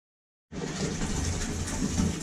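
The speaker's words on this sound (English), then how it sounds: "This is how you wash clothes when the local laundromat is out of commission." Water splashes and sloshes steadily while clothes are washed by hand on a trail, starting abruptly after a half-second of silence and continuing close and moderately loud.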